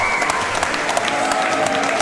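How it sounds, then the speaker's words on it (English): Crowd applause at a live boxing event right after the final bell of a fight, steady dense clapping filling the hall for the whole stretch. "the crowd is showing the appreciation as a result"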